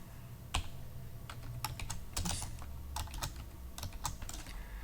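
Close, quiet typing on a computer keyboard while coding a web page, a series of irregular sharp key clicks in short bursts over a faint low background hum, no voices.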